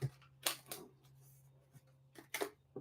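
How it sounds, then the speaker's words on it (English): Several short, crisp bursts of cards riffling and snapping together, separated by quiet pauses, close and fairly soft. "Yeah, these aren't even shuffling well"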